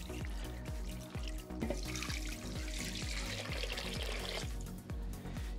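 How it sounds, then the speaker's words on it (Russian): Water pours steadily from a tap or container into a 12-litre cauldron holding meat, a continuous close splashing trickle with regular dripping pulses underneath. "Заливаем это все водой так, чтобы покрыло мясо."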